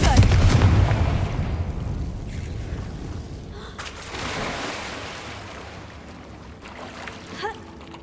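A Confringo blasting spell from the Hogwarts Legacy video game goes off in a loud, booming explosion at the start, then a long rumbling decay fades out, followed by a faint small burst near the end.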